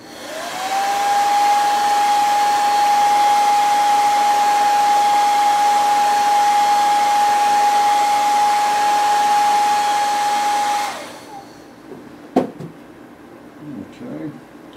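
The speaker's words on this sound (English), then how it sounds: "And I've got just a simple blow dryer." A hair dryer blows loudly and steadily for about ten seconds with a constant whine while drying paint on a swimbait lure, then switches off, followed by a sharp clunk and faint handling sounds.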